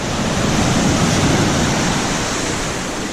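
Ocean waves breaking on the beach at Ocean City, Maryland, a loud, steady roaring wash of surf with no distinct individual crashes and no voices.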